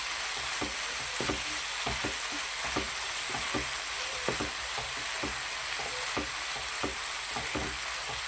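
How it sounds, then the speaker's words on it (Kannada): Tomatoes for a capsicum curry fry in a pan with a steady, close sizzle, punctuated by regular scraping and tapping strokes of a spatula stirring them, with no one talking. "ಟೊಮೆಟೊ ಚೆನ್ನಾಗಿ ಫ್ರೈ ಆಗ್ತಾ ಬಂತು"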